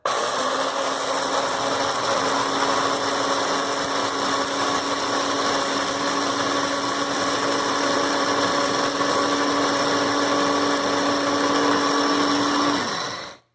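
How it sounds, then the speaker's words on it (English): A kitchen blender grinds wheat berries into flour, running as a steady loud whirring drone with a harsh, gritty edge for over twelve seconds before abruptly cutting off. "You see how when the blender is going, the wheat berries are flying up in the air?"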